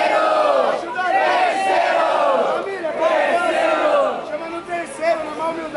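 A rap battle crowd at an outdoor freestyle event in Brazil roars and shouts continuously for a rapper, loud and dense throughout, with voices chanting and yelling over one another.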